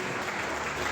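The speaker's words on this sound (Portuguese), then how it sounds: "E as palmas mais uma vez" A congregation applauds during a church worship service, a steady dense wash of clapping that fills the short moment.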